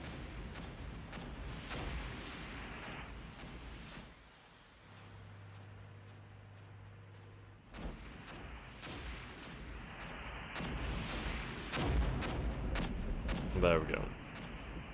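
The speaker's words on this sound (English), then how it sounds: "Yep, here comes the artillery." Artillery fire in the Armored Brigade war game, a series of loud booming blasts and rumbling impacts across the battle, with a quieter engine-like drone in a lull and talk over much of it.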